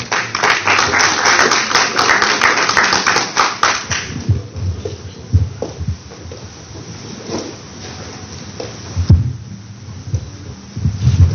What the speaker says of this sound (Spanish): Invitamos, por favor, lo recibimos con un fuerte aplauso.